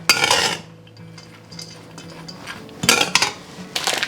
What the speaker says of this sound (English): I'm just going to kind of stir those together real quick.